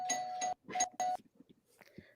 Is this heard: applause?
no